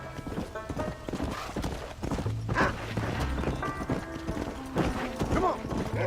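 Horse hooves clip-clop at a steady trot in Red Dead Redemption, close and clear, with music and voices talking over them.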